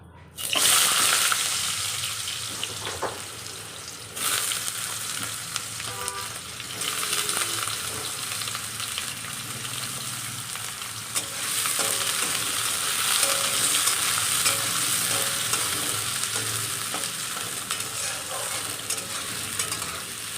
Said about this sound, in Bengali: আলুগুলো নাড়া দিয়ে ভালো করে ভেজে নেব।